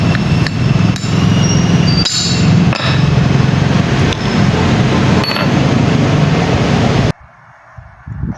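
A hammer striking a motorcycle valve assembly to knock the valve locks loose, a series of sharp metallic blows landing close and loud at irregular intervals before the sound drops away.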